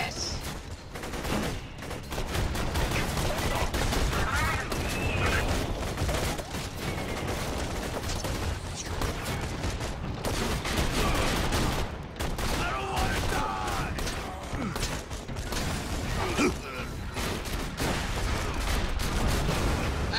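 Constant gunfire in the video game Borderlands 2, dense overlapping shots and explosions forming a loud, unbroken barrage, with game voices audible in the mix.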